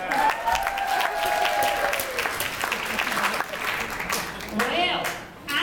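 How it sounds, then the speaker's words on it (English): A crowd gives a round of applause, steady and fairly loud clapping running throughout, with people talking over it. "Round of applause."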